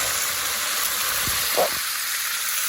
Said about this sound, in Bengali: হাঁস রান্না করতেছি পেঁয়াজ ভেজে নিচ্ছি এখন হাঁস দিয়ে দিলাম